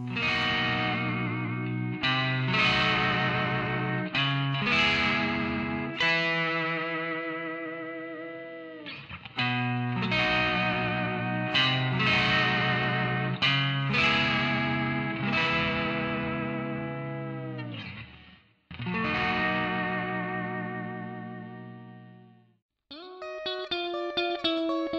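Electric guitar played through a Rock House Super-Vee tremolo pedal, chords and picked notes pulsing with effect, loud and continuous phrases with short breaks, closing on a cleaner higher riff, no talking.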